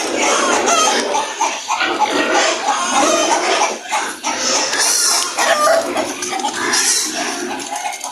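A dense, loud farmyard din of newly weaned piglets squealing and grunting as they feed together, with chickens clucking mixed in throughout.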